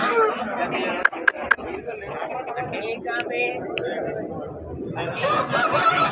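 Roosters and hens at a busy country poultry market cluck and cackle near the listener, with a few sharp crows and squawks rising over a steady murmur of people talking.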